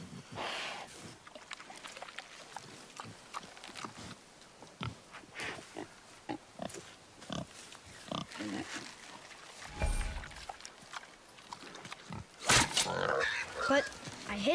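A boar grunts in the God of War video game, short snorting grunts repeated amid in-game sounds and footsteps, with characters talking over parts of it.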